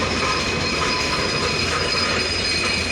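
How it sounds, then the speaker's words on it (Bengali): A passenger express train hauled by a locomotive rumbles steadily and loudly close by as it arrives at a station platform, a constant rolling roar with metallic screeching tones over the noise of wheels on rails. "ট্রেনটি বর্তমানে সৈয়দপুর ইন করলো 1 নম্বর প্ল্যাটফর্মে"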